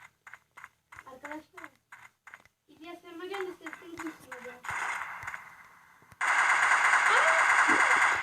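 Machine gun fire from the online shooter Special Force 2, with bursts of rapid shots broken up by a voice talking, then a loud, dense stretch of continuous firing near the end.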